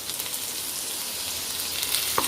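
Steady sizzling of garlic and ginger frying in a hot pan, a continuous crackling hiss with a brief clink near the end.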